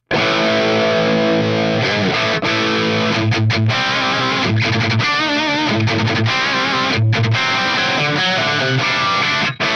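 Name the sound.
distorted electric guitar through amp modeler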